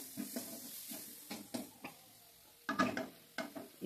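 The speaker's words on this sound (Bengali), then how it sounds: "টমেটো মশলার সাথে একটু ভেজে নেবেন।" Tomatoes frying with masala spices in a pan for a Bengali chicken curry, heard as quiet sizzling and intermittent stirring clinks and scrapes at close range.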